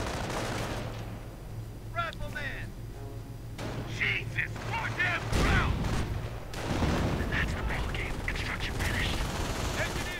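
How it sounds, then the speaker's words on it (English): Machine gun and assault gun fire in a World War II real-time strategy game, with rattling bursts and blasts layered over battle noise and someone commentating throughout. "MG holding up an advance right there. Assault guns proving a nuisance, blasting away riflemen."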